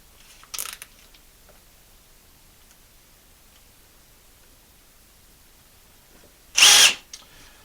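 A power drill driving a screw into a pilot hole in hemlock wood for a chicken coop nest box divider, heard as two brief bursts: a short whir near the start and a louder, longer one near the end, with quiet in between.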